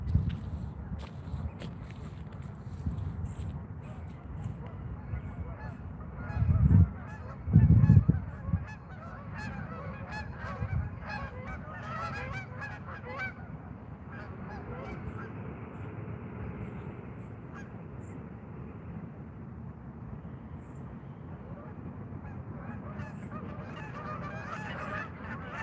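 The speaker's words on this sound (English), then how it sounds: "I hope these geese don't fly over me because they like to shit when they're flying." Geese honking nearby outdoors, two loud close bursts of honking early on, then quieter calls and ambient noise continuing for the rest of the stretch.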